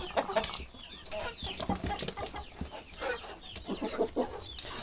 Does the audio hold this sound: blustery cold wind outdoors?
no